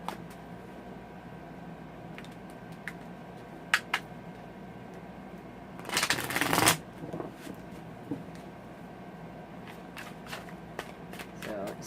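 A deck of steampunk tarot cards is shuffled close by, a brief loud riffling burst after a few light taps and card handling sounds in a quiet room.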